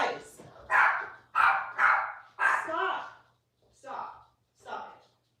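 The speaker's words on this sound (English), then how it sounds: "my dog's going mental" A dog barks in short loud bursts, about six harsh barks spread unevenly over a few seconds with brief gaps between them, close to the microphone indoors.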